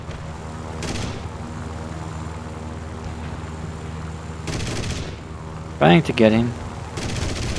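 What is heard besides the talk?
aircraft gunfire from a Yak-9T in War Thunder video game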